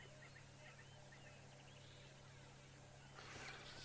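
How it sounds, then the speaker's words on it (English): Several birds call at sunrise in the African bush, a faint distant chorus of gobbling and chattering notes over a steady background hiss, rising a little toward the end. "There's a lot of birds calling."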